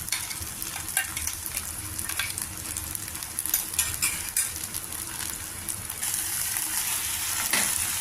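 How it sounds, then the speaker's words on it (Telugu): Coriander, ginger and green chili paste frying in oil for a brinjal curry, a continuous close sizzle with stirring scrapes and clatters, swelling louder toward the end, no talk. "ఈ ముద్దను కూడా మనం వేసేసుకుని కొద్దిగా పచ్చివాసన పోయేదాకా మనం వేయించుకోవాలి"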